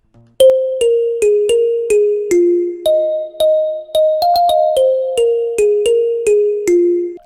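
Xylophone from an Afro remix drop plays a bright melodic line of evenly spaced struck notes, about a dozen in steady rhythm stepping down and back up, loud and close with no voices.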